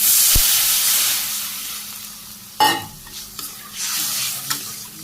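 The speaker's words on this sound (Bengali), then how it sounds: "মরিচের গুঁড়ো, আবার নেড়ে চেড়ে কষে নিই। জানি কষানো হয়ে গেছে, আমি জল দিয়ে দিই।" Water poured into a pan of sizzling spiced vegetable curry, a loud, steady frying hiss that fades before a sharp steam burst and bubbling, then stirring scrapes and renewed sizzle.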